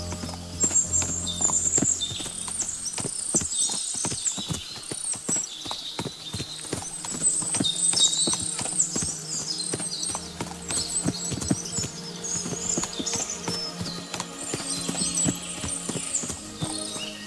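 Many horses' hooves clip-clopping steadily at a trot in the video game Kingdom Come: Deliverance II, a dense, continuous patter with an occasional whinny, loud and close throughout.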